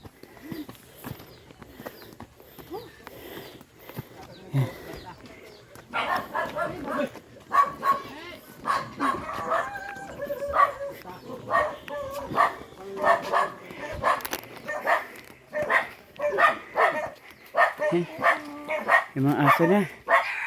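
Dogs bark repeatedly in short bursts on a mountain outing among village houses, some yips near and others farther off, with people talking throughout.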